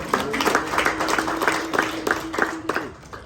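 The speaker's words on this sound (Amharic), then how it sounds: "አጨብጭቡ ለጌታ ነው።" A church congregation claps together in a steady, rhythmic beat, a dense and fairly close wash of many hands with voices mixed in, continuous throughout.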